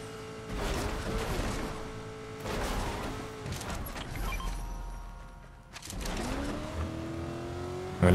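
A Tesla Cybertruck drives in Fortnite, its engine humming steadily with tonal whine that rises as it accelerates, dipping briefly near the middle before surging again, moderately loud with occasional game effects and no talk.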